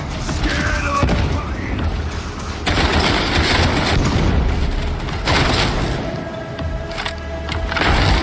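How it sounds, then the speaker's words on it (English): A grenade blast in Warhammer 40K: Darktide lands amid heavy combat, with loud, dense bursts of explosions and gunfire that surge and break off several times in close succession. "Throwing grenade!"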